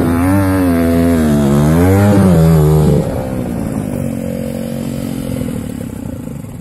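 A dirt bike engine revs loudly and steadily during a trail race, pitch rising and falling with throttle for about three seconds, then drops to a lower, rougher drone that fades slightly.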